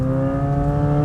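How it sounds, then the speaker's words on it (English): A Corvette C8 Z06 engine accelerating in second gear at part throttle gives a loud, steady, close drone with a rich, even, humming tone and no break. "now I'm in second gear, part throttle acceleration"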